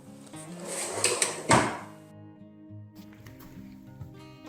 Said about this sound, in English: So we got a plywood bottom, poplar drawer with the cherry front, ball bearing slides